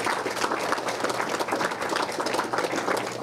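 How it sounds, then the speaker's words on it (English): A crowd at the MGH Institute of Health Professions ribbon cutting gives the students a steady, full round of applause. The dense clapping holds evenly for several seconds, with no talking over it. "how about a round of applause for the students"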